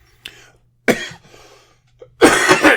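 A person coughs close to the microphone in a few short, harsh bursts separated by brief pauses, ending with a stronger double cough.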